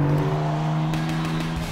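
A BMW M4 engine holds a steady, close, loud drone, with a few short blips of revving as it downshifts, and no talking over it.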